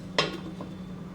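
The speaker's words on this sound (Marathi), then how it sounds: "तर मी आता याच्यावर झाकण ठेवून घेते" A metal lid is set onto a pot of boiling rice on a gas stove, giving one sharp clink followed by a softer rattle, with a steady low hum under it.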